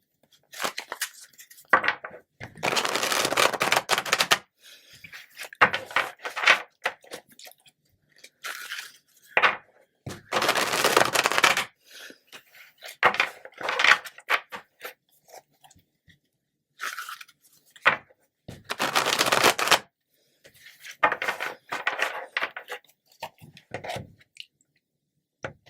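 Tarot cards being shuffled by hand during a weekly reading, giving several bursts of riffling, crunchy card noise separated by pauses, fairly close and alone with no talk.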